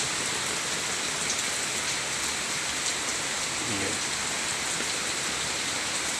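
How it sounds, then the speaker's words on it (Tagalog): Heavy rain pours steadily, a dense, loud hiss of drops drumming on surfaces with no break throughout. "lakas ng ulan ito sa amin"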